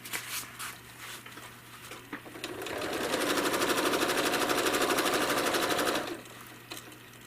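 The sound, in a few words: home sewing machine machine-quilting a leafy feather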